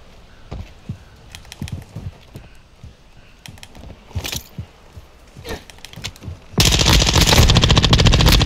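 Rapid automatic gunfire from a Modern Warfare 2 match, starting as scattered bursts of shots and then turning into a loud, continuous stream of fire near the end, with no talking.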